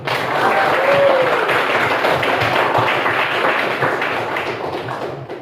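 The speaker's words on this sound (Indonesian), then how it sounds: "Bagus, tepuk tangan dulu." Junior high school students at a coding and artificial intelligence training session clap together indoors, a dense burst of hand claps that gradually tapers off, with a brief voice early on.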